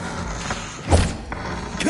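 A wizard's Bombarda spell strikes in a video game, landing as a dull, solid thud in the middle with a few softer knocks around it.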